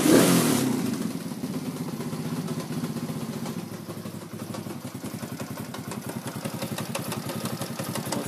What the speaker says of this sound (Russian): Вот слышны какие-то стуки посторонние